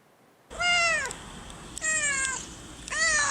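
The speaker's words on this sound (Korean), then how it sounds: "그렇죠. 바로 고양이에요." A cat meows three times, each one drawn out and clear, close by, with short pauses between.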